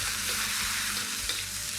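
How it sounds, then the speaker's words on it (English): Onions stir-fry in a hot wok for a noodle dish, giving a steady, close sizzle with soft scraping stirs and no voices. "we're going to keep stir-frying everything"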